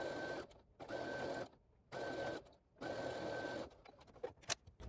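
A sewing machine stitches quilt seams in fast whirring bursts, four runs of about a second each separated by short pauses, close up, with light handling clicks at the end and no speech.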